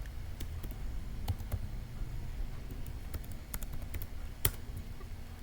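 Password keys tapped on a computer keyboard during a Linux Ubuntu install in Oracle VM VirtualBox, a quiet irregular patter of soft clicks over low background hum with one sharper tap near the end.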